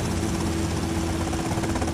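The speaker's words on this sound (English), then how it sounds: "There's a lot of helicopter here." A helicopter in the video game GTA Vice City gives off a steady, loud rotor and engine drone. It holds a constant tone and has no talking over it.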